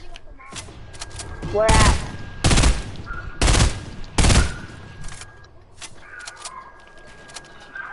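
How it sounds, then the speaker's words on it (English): FAMAS rifle fire in a shooter video game comes in four sharp, loud bursts in quick succession, with a short spoken question nearby. "I'm shooting a FAMAS."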